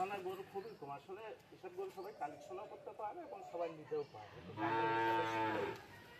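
Brahman cross bull calves on a farm, one giving a loud, sustained low moo near the end, preceded by someone talking over the herd.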